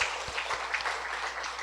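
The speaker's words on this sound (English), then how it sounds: "Let us all give ourselves a round of applause." Attendees at a library software conference applaud, a brief, moderately faint patter of clapping heard as a continuous wash.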